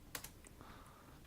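A couple of sharp keystrokes on a computer keyboard, a quick Ctrl+F shortcut, followed by a softer key tap, close and quiet with no talking.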